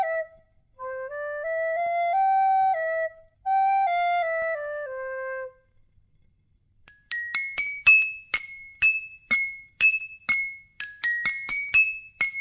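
A simple melody tapped out on drinking glasses: bright, ringing struck notes in a quick, regular sequence. The glass notes follow a smooth, sustained wind-like tune, with no talking.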